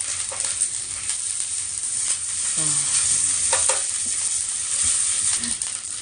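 Samgyeopsal pork belly sizzling in a pan: a steady, dense crackle and spit close by, with occasional stirring scrapes and clinks over the top.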